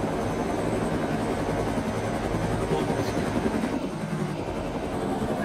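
A military helicopter engine in the video game Arma drones steadily with a low rotor thrum, loud and continuous, after landing for repair.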